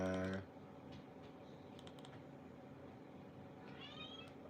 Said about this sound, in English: Well, who's that meowing?